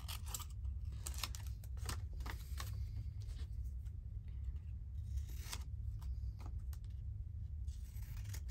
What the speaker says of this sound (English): I'll get my big scissors and just go around those straight bits